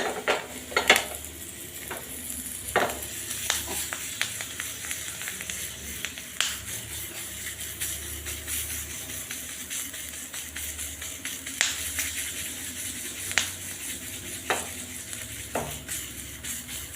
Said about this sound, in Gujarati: તમે જોઈ શકો છો મેં થોડું તેલ નાખીને શેક્યા છે મરચાં